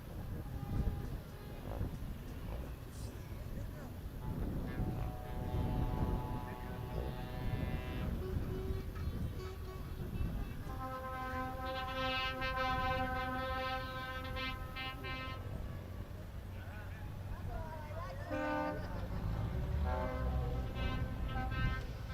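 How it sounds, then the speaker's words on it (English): Several deep racing-truck air horns blare in long overlapping blasts over a noisy outdoor rumble at Pembrey Circuit, some near and some farther off. "A sound of air horns around the Pembrey circuit"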